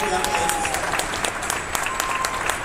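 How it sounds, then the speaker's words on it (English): Audience applause for a group of young ladies, a senior class of 2021, rings out as steady, dense clapping from a crowd throughout, with no break in the sound. "Let's give one final round of applause for this great group of young ladies."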